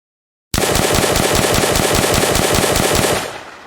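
Full-auto gunfire from a zombie video game built in Unreal Engine, a loud, evenly spaced rapid burst of about twenty shots lasting nearly three seconds before trailing off.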